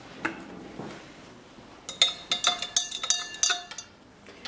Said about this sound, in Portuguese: e dissolver com uma vareta de vidro na água.